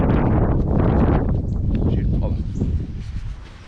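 Strong wind buffets the internal microphone of a GoPro Hero 8 outdoors, a loud, continuous low roar with gusty swells that eases slightly toward the end.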